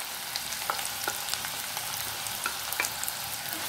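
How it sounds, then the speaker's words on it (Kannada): Chopped onion sizzles continuously in hot oil and ghee for a chicken bhuna masala, with a few soft stirring knocks, close and steady, with no voice present. "ಈ ಸ್ವಲ್ಪ ಕೆಂಪು ಬಣ್ಣಕ್ಕೆ ಬರಬೇಕು, ಅಲ್ಲಿವರೆಗೆ ಫ್ರೈ ಮಾಡ್ತೀರಿ"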